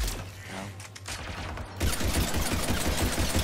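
Pistol gunfire in a Mass Effect 3 multiplayer match, a rapid burst of sharp shots over dense game noise, growing louder and busier halfway through.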